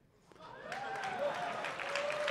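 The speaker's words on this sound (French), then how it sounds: "Vous pouvez vous applaudir." Audience at a hackathon closing ceremony applauding, a steady moderate wash of clapping that swells after a soft start while a voice speaks over it.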